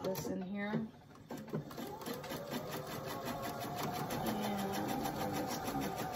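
A sewing machine stitches a quilt block seam in a fast, steady mechanical rattle that runs for several seconds after a brief pause, while a person talks over it.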